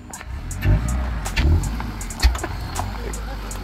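Honda Accord with an F22 engine and a cheap intake setup revs up in short bursts, the engine note rising and falling up close, with occasional clicks and a voice briefly under it.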